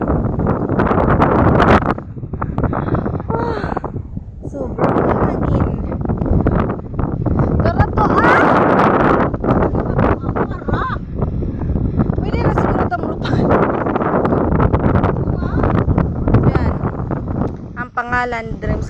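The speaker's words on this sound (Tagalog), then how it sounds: "Sobrang hangin." Strong wind on a hilltop, a constant loud roar and buffeting rumble across the microphone that persists throughout, with people talking under it.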